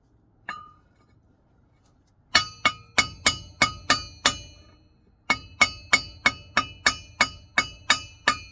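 A hammer lightly tapping a Sachs oil-filled shock absorber into place on the front steer axle of a Kenworth W900 truck: one early tap, then two quick runs of about seven evenly spaced, ringing metallic taps, close and alone.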